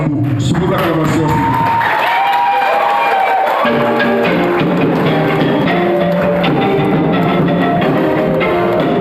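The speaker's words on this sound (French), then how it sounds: "Sous vos acclamations" Cheers, whoops and applause rise from an audience at an international conference as a school director is welcomed. The loud, dense crowd noise runs unbroken, with voices shouting through the clapping.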